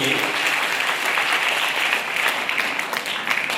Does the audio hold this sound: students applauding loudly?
yes